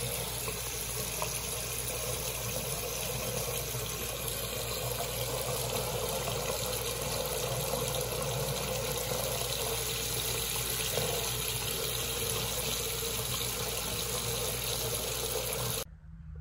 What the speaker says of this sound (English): The water running like that is usually going to be your first indicator that something's going wrong.